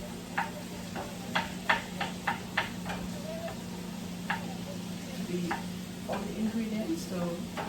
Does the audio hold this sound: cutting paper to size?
no